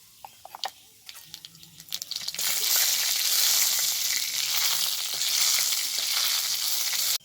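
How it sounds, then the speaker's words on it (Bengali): Black cumin seeds and dried chillies hit hot oil in a pan, opening with a few scattered crackles and pops, then breaking into a loud, steady sizzle that holds for several seconds. "এবার তেলের ওপর ফোড়ন দিচ্ছি, ফোড়নে দিচ্ছি কালো জিরে, শুকনো লঙ্কা।"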